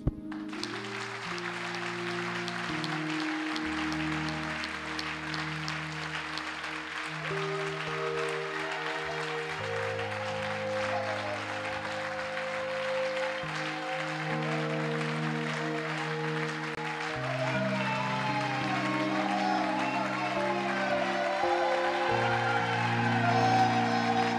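An Easter seminar congregation in a church claps and cheers for Jesus over sustained keyboard chords, and the dense applause builds gradually across roughly twenty-four seconds without any speech.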